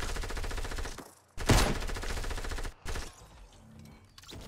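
Gunfire in the Fortnite Battle Royale video game comes as rapid bursts of shots, a loud volley in the middle followed by a shorter burst, over a steady game background.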